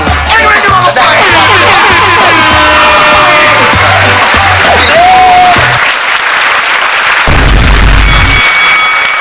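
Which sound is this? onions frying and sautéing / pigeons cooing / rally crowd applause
rally crowd applause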